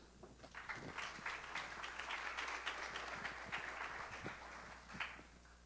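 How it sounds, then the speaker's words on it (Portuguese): Sustained audience applause at a CAOS 2018 security conference as a speaker takes the stage, steady broadband clapping from a sizable crowd lasting several seconds at moderate distance, with no talk over it. "por favor, palmas."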